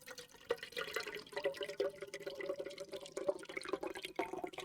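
Water pours into a glass in a steady, close trickle, splashing and gurgling continuously for several seconds with no talking over it.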